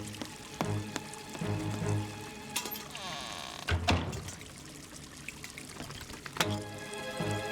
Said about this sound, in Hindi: मैं पानी निकालने के लिए वो बकेट यूज कर सकता हूँ